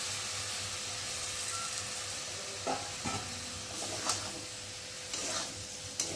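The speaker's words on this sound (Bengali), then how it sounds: "এখন ভেজে রাখা আলু কচুটাকে দিয়ে ভালো করে কষিয়ে নেব।" Fried potato and taro pieces cooking in hot oil, a soft continuous sizzle with scattered clinks and scrapes of stirring.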